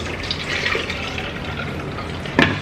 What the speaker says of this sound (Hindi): पोर करने से क्या होगा कि नीचे से सारा पानी निकल जाएगा और आपका बटर इसी में रह जाएगा इस तरीके से।